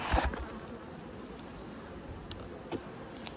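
Honey bees buzz around an opened beehive, a steady close insect drone with a few handling knocks near the start.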